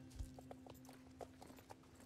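Hooves of a horse clip-clop on the ground in the Star Stable video game, a quiet and evenly spaced run of about six light strikes with a low thud near the start. No one speaks.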